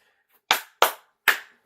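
Three sharp, separate hand claps, evenly spaced and fairly close, with no talking.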